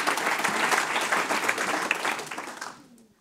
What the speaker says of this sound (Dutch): Een applaus.